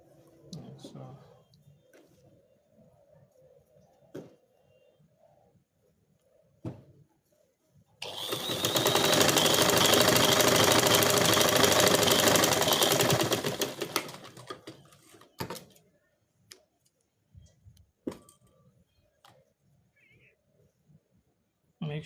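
Sewing machine runs a steady, loud burst of stitching for about six seconds along a jogger trouser waistband with rope, quiet handling sounds and occasional clicks before and after.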